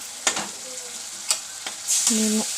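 A spoon stirs a yogurt and gram flour mixture with a few distinct scraping strokes, and a soft sizzle runs underneath. The stirring is close and moderately loud, with no talking.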